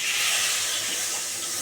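Chital fish heads frying in hot oil give a steady, dense sizzle and hiss close by, unbroken throughout.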